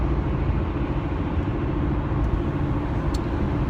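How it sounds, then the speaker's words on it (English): Steady road traffic rumbles on a busy day, a dense, continuous wash of passing cars and engines close by with no voices over it. "Wow, that traffic's bad today."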